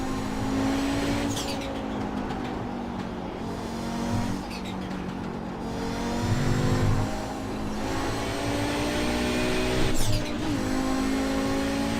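An Audi 90 Quattro GTO race car in iRacing, its engine screaming near redline with rising pitch sweeps, brief drops at gear changes and occasional tire squeal, loud and close throughout.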